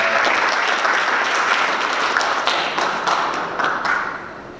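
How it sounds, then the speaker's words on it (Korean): Audience applause after a lecture at a study gathering, a close, full round of clapping with a few sharp individual claps, tapering off at the end. "큰 박수 부탁드리겠습니다"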